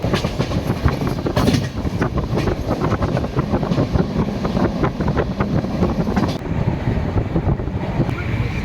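Darjeeling Mail train rolling along in sleeper class, a loud continuous rumble with rhythmic clickety-clack of wheels over rail joints and wind noise, heard from inside the carriage.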